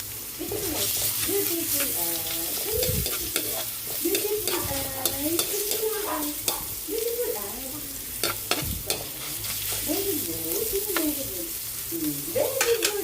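Garlic frying in a pan, a steady sizzle with frequent spatula scrapes and clinks, a voice talking over it and birds cooing in the background.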